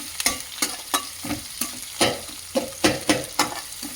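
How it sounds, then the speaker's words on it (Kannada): Mandakki mixture stirred with a spoon in a pan, giving repeated rhythmic scraping strokes about every half second over a light sizzle, close and clear. "ಸ್ಪೂನಿನ ಸಹಾಯದಿಂದ ಮಿಶ್ರಣ ಮಾಡಬೇಕು."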